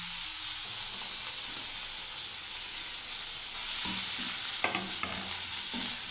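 Ground pointed gourd paste, ground on a stone slab, hitting a hot pan and frying with a steady sizzling hiss, a few scraping stirs near the end, no voices.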